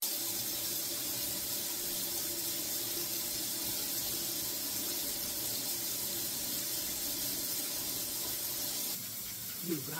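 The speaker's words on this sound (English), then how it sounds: "I pour some hot ass water and I throw it over my dishes and my utensils" Steady rush of hot water pouring and splashing onto dishes and utensils in a sink, continuous for several seconds, then easing off near the end.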